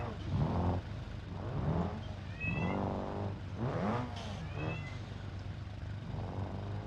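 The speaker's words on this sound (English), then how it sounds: "I apologize for the cat in the background" A cat meows repeatedly in the background, several drawn-out, wavering calls at an uneven pace, heard over a low engine-like hum from a driving game.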